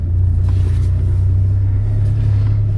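A Volvo T5 ex-police car engine idles with a deep, steady low rumble close by, running continuously and alone.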